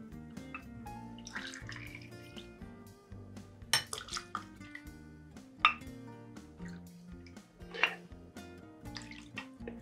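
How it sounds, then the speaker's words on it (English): Spirit is poured into a batch of sangria, with trickling liquid, drips and occasional sharp clinks of glass and utensils, fairly close and uneven, with no talking. "we're going to go ahead and add our spirit"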